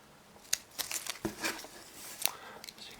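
Shears snipping through Ficus benjamina shoots during pruning, a few sharp close crunchy cuts and crinkling leaf rustles spaced across the moment, no talking.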